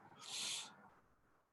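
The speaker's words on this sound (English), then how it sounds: "Man, there's a lot of birds back here. Noisy ones." Loud bird calls behind a donut shop, a single harsh owl-like cry swelling and fading over about a second, close by with a quiet outdoor background.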